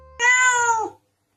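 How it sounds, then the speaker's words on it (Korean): A single stressed cat lets out one drawn-out, strained meow lasting under a second, loud and close with a rich harmonic, slightly wavering tone that falls away at the end, alone in silence. "이 소리는 대표적으로 고양이가 스트레스를 받을 때 내는 소리입니다."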